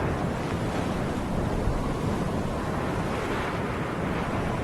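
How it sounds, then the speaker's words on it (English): Ocean waves around a sailing yacht in Sailaway III while cruising the Atlantic, a dense steady wash of surf and wind noise, continuous and fairly close, with no voices. "Look at those waves."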